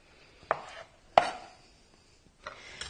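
A knife slicing through mozzarella balls on a cutting board, four distinct soft thuds spaced apart, close and clear with no talking.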